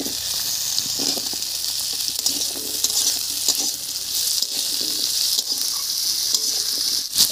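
Cut potatoes tossed into a pan of onions frying over tempering spices give a steady, close hiss and sizzle, with faint stirring scrapes now and then and no voices.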